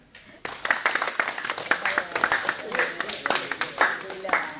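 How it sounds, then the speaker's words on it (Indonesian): Students clap for a welding class presentation at a vocational school, a dense burst of many hands starting abruptly and continuing steadily, fairly close and loud. "Oke, tepuk tangan."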